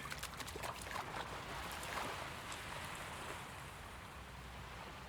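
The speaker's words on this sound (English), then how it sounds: "The waves lap at the shore, sparkling and shimmering." Waves lapping at the shore in a beach scene of Persona 3 Reload, a steady soft wash of water with light splashes, brighter at first and settling into an even surf-like hiss.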